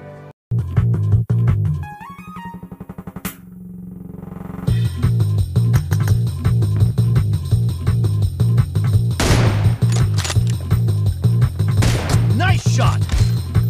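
Gunfire in the video game PUBG Mobile comes as a long run of rapid, evenly spaced automatic shots, loud and sharp over a steady game soundscape, after a short stretch of game tones and effects at the start.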